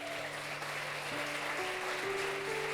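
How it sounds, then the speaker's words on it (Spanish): A church congregation applauds during a sermon, a steady, soft wash of clapping heard at a distance under sustained organ or keyboard tones. "Dele un aplauso al Señor."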